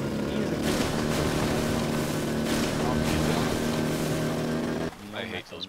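Stolen snowmobile in the video game Rust, its engine droning steadily and loudly with a constant tonal hum for about five seconds, then cutting out as a voice speaks briefly.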